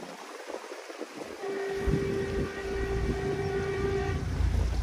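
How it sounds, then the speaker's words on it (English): A train passes some way off while a boat heads home through a swing bridge. A sustained horn tone rises over a steady rumble of rail cars that holds to the end, with no talk. "Made a lot of noise for a little train."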